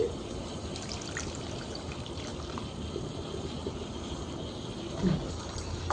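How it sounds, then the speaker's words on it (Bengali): Ground neem leaf juice pours into a pot of melted soap on the stove, a soft, continuous liquid trickle and bubbling hiss heard up close without speech. "এখন ওই বেটে রাখা নিম পাতার রসটা এর মধ্যে ঢেলে দিচ্ছি।"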